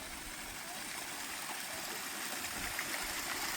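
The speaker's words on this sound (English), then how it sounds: "The sound is so soothing, and the sight of the water tumbling over the stones is mesmerizing" Waterfall in Kurpark, Mittenwald, water tumbling over stones in a steady, full rushing wash with no breaks, close and even throughout.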